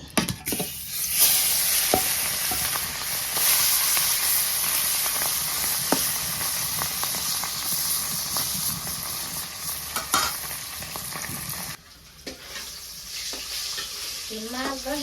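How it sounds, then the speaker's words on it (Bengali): Fish rubbed with salt and chili sizzles loudly in hot oil in a home kitchen, a dense continuous frying hiss that drops off sharply near the end, with faint stirring clatter. "তেল তো তাপ হয়ে গেছে গা মাছ দিয়ে দিই"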